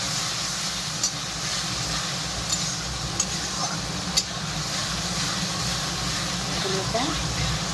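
Spice paste for begun bharta is stirred and fried in oil, giving a steady close sizzle with occasional clinks of the spoon against the pan and someone talking over it.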